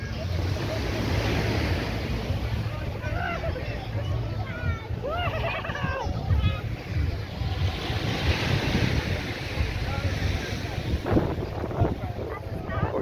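Waves washing onto a beach near Bridgetown, Barbados, a steady surf roar mixed with wind buffeting the microphone, while a person talks over it.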